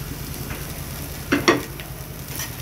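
Chopped green chilli and garlic hit hot oil in a pan for a chicken achar, giving a steady close sizzle with two louder bursts of stirring and scraping midway through.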